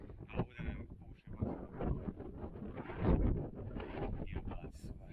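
Gusty wind buffets the microphone on a peak of the Prenj mountains above the Tisavica valley, loud uneven roars rising and falling in bursts across the whole stretch.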